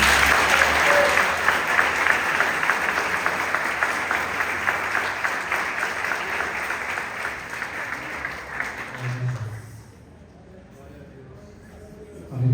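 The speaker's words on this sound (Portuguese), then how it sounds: "Palmas que exaltam Jesus" A church congregation claps in praise of Jesus during a Portuguese-language worship service, loud rhythmic applause with voices mixed in that gradually thins and fades out near the end.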